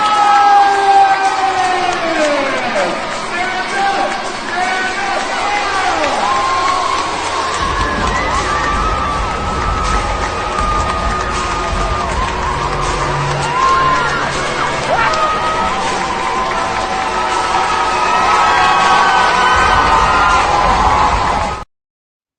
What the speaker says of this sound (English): they had sound effects of people screaming and hollering